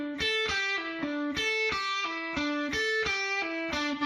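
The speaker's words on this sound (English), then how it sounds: "It's an upstroke followed by 2 downstrokes with a pull-off in the middle." Distorted electric guitar lick played slowly in a strict repeating pattern of an upstroke, two downstrokes and a pull-off in the middle, the bright sustained notes looping steadily and closely for the whole stretch with no talk.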